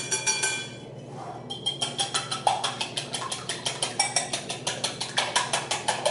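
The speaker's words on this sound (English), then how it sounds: "And we're going to whisk that together." Whisk beating cornbread batter made with eggs in a bowl, a fast steady run of sharp rhythmic clinks against the bowl after a brief lull, close and alone.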